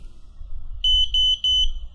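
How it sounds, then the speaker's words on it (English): Flight controller of an FPV drone being set up in Betaflight 3.4 gives a short run of high, evenly spaced electronic beeps, loud and close against a faint low hum. "Got the beeps."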